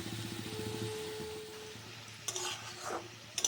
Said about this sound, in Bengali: আলুগুলো একটু ভাজা ভাজা হয়ে এসেছে